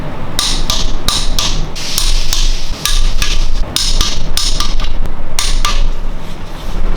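Repeated sharp metallic clicks from a torque wrench tightening BMW N62 oil filter housing bolts to 34 Nm during an engine timing chain overhaul, close and loud, in quick irregular bursts across several seconds.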